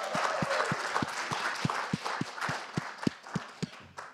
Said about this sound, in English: please give a huge round of applause for our Vietnamese pitchers